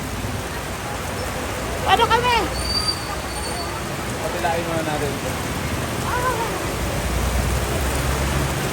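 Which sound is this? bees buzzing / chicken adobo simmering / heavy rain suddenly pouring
heavy rain suddenly pouring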